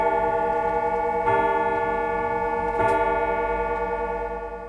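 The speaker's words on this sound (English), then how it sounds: "Now, with some patience, I can fine-tune the clock to keep perfect time, and when that's done, it sounds great." Tall case oak clock ticking steadily up close, with a strong sustained harmonic hum running underneath and two louder ticks standing out, no voices.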